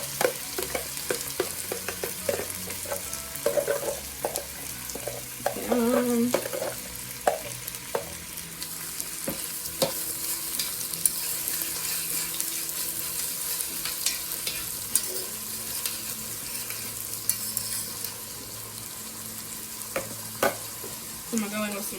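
Vegetables sauté in warm butter in a soup pot, a steady sizzle running throughout with irregular scraping and clanking stirs, louder in the first few seconds.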